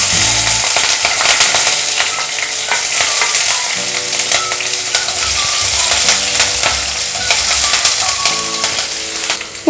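Green chilli and garlic fry in a pan for a Kerala cabbage mezhukkupuratti, a loud, continuous sizzle with stirring scrapes running throughout, close and dense, with no voices.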